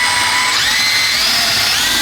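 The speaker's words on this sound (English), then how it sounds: "I'm probably gonna put it down like that, and then just drill it like this into the ground." A power drill bores a hole for a saltwater pond filter, whining loud and close at a steady high pitch that shifts slightly partway through as the bit bites in, with no talking.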